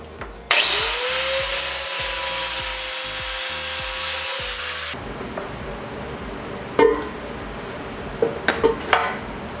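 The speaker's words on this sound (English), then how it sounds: "What we're gonna do, drill some holes in the side here." A power drill bores holes into the side of a steel frame rail on a turbocharged V8 Mustang chassis, mounting points for rivet nuts. A loud, steady high-pitched whine runs for about four seconds and then cuts off, followed by a few faint knocks and clanks.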